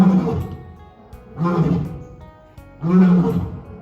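A lion lets out three deep, drawn-out roars at roughly even intervals, fairly close and loud, with a heavy rumbling low end.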